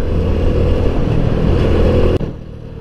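A Honda Biz motorcycle rides out in rain, its small engine droning loud and steady with road and wind noise, then cutting off sharply into quieter, muffled rumble near the end.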